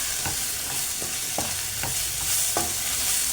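A pan of tomato and chili powder for chicken perattu is stirred with a spoon: four or five distinct scraping strokes over a steady, close sizzle.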